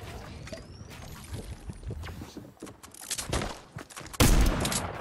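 Rapid gunfire bursts in the Fortnite video game, a string of close, sharp shots that swell into a loud, dense volley near the end, heard alone with no talk.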